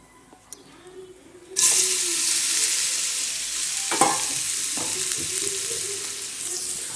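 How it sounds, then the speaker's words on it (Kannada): Marinated soya chunks drop into hot oil with a sudden loud burst of frying that settles into a continuous close sizzle, broken by a few scraping stirs, with no one speaking. "ಸೋಯಾ ಮ್ಯಾರಿನೇಷನ್ ಆಗಿದೆ, ಇದನ್ನಿನ್ನು ಡೈರೆಕ್ಟ್ ಫ್ರೈಗೆ ಹಾಕೋದು."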